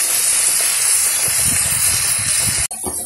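A ground paste of green chilli, yogurt, tomato, coriander and cumin fries in a pan with a loud, close, steady sizzling hiss that cuts off abruptly just before the end.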